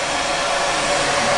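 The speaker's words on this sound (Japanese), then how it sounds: "頭の地肌のところはしっかり乾かして大丈夫。" A hair dryer blowing on hair at the scalp, a steady, loud, close airy roar that stays constant throughout.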